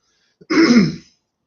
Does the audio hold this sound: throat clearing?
yes